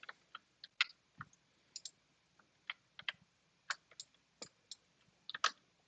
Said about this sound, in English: still getting used to my new keyboard.